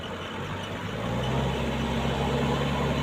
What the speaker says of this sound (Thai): เครื่องยนต์นิ่มๆ นะครับ เสียงนิ่มเลยนะครับ